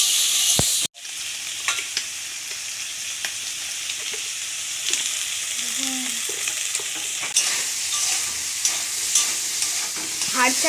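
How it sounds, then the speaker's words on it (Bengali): Boneless meat fries in a wok with a steady, close sizzle, broken by the clank of a utensil at the start and repeated scraping as it is stirred. "হাড় ছাড়া মাংস রান্না হচ্ছে"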